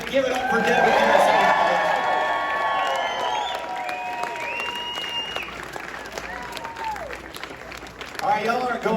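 A live audience claps and cheers for Devin Harris at a talk-show taping, a sustained wash of applause with shouts and voices layered over it, swelling near the start and again at the end.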